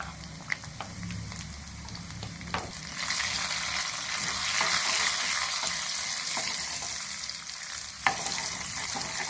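Mustard seeds, cumin and tempering spices sizzle steadily in hot oil in a pan for a Telugu fenugreek-leaf and lentil dish, a close crackling hiss that swells louder midway. Scattered sharp pops and a stir or clink punctuate it.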